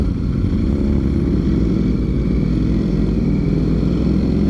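Ducati Streetfighter V4 motorcycles roll up with a loud, steady low engine rumble that stays constant and close throughout, with no talking.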